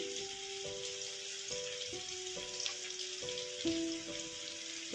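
Onions frying with turmeric and salt make a faint, soft, continuous sizzle under a quiet stepped melodic tone in the background.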